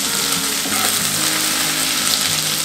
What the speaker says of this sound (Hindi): अभी मेरा घी गर्म हो गया, इसमें मैं लहसुन अदरक का जो पेस्ट था इसको डाल दूँगा पूरा